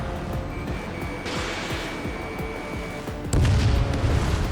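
A jet-combat explosion in Ace Combat 7 as an enemy aircraft is shot down, heard as a sudden loud boom over a steady engine roar after a rhythmic rumble.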